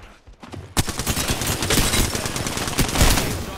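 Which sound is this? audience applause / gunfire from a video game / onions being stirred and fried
gunfire from a video game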